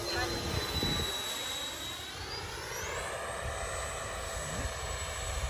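An FMS 80mm Rafale RC electric ducted-fan jet making a slow quarter-throttle pass, its steady rising whine shifting pitch as it flies by under wind and background noise.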